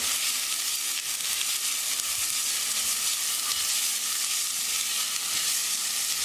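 Onion fries and sizzles in a pan while being stirred, a steady bright crackling hiss that holds at an even level throughout, close and alone.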